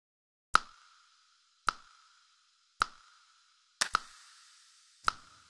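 Five sharp percussive hits, each followed by a long, fizzy, bright reverb tail from a Vapor Verb preset, spaced about a second apart with a quick double hit near the fourth, heard alone with no talk.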